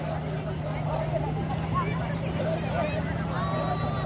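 A pompong motorboat used in a rescue at a mini Pacu Jalur boat-race event, its steady low engine drone running throughout beneath a loud crowd babble and announcer-style talk.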